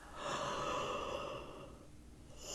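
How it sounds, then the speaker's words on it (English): A single deep, drawn-out yawn with a long breathy exhale, close and fairly soft, tapering off before a fresh intake of breath at the end. "Now take another deep yawn and a stretch."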